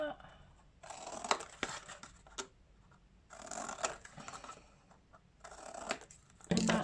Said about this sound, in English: you can get your scissors and you can trim all the edges